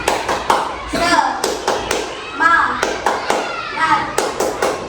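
A classroom tepuk semangat, a rhythmic spirit-clapping chant, with sharp patterned claps in groups punctuating children's and adult voices chanting along, loud and close.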